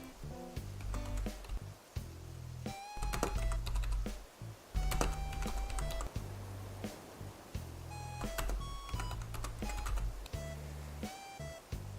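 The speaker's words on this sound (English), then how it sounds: "I'm kind of a slow typer" Computer keyboard typing at a slow, uneven pace, close and clear, with scattered clacking keystrokes and brief pauses, accompanied by faint electronic beeps and tones in the background.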